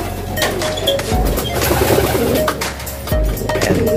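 Soft bird cooing repeats close by at a bird loft amid steady outdoor background noise and low rumble, with no talking.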